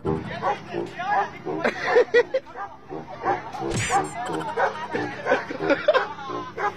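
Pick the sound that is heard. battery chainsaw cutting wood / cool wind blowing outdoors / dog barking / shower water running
dog barking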